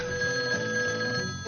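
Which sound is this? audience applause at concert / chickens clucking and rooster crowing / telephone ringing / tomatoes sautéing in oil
telephone ringing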